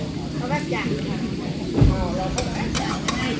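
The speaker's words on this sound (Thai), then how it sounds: "เขากำลังทำอาหารเช้านะคะ" Cooks prepare an outdoor breakfast of som tam and omelette at a forest village camp, with light stirring, utensil clatter and a few sharp clicks heard under continuous talking.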